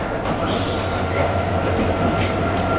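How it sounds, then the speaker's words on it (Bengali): Riding aboard the Burimari Express passenger train in Bangladesh: a loud, steady rumble of rolling wheels and carriage noise with faint rhythmic clatter, heard from inside. "আমরা চড়ে বসলাম এই বুড়িমারি এক্সপ্রেস ট্রেনে"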